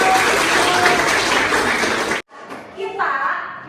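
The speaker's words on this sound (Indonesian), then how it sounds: "Tepuk tangan." Students in a classroom break into loud, dense applause that runs steadily for about two seconds, then stops abruptly, followed by quieter room sounds and a voice.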